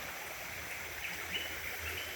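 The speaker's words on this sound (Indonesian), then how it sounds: "karena sungai ini tidak mudah surut ya teman-teman, karena sungai berbatu dan juga sumber airnya juga dari gunung" A rocky river fed from mountain springs flows steadily, a continuous soft rushing wash of water heard alone at low volume.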